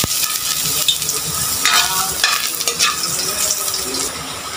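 Ginger frying in a hot pan at the start of cooking Filipino pork adobo, with a steady close sizzle and crackle and occasional stirring scrapes throughout.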